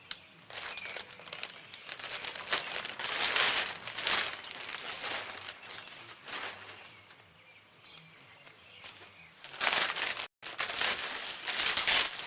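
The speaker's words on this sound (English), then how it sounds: "Got some more tape here. Let me cut it." Tape is pulled, crinkled and cut while a dash cover is removed during heater core work on a 1998 Dodge, giving close, loud bursts of crackling and rustling with brief pauses and no speech.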